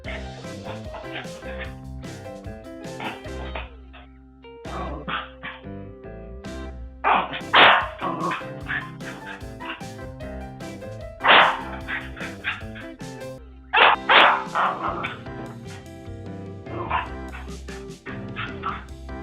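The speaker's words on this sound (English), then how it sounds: "This dog loves the new rug and can't contain his happiness." Dog barking excitedly on a new rug, repeated yips and barks over loud background music.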